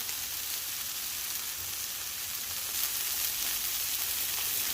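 Onions and jalapenos sizzle on burgers in a pan, a steady, dense frying hiss that stays loud and even throughout with no voices.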